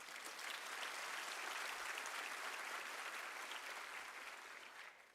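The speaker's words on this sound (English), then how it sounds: "And that deserves a round of applause." Dense, distant applause rolls through the audience at a University of South Africa graduation ceremony, a steady wash of many hands that fades slightly at the end.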